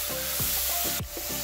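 Tomato being stirred in a hot pan with garlic for a crab shell dish, a spoon scraping the pan bottom in several distinct strokes over a steady sizzle.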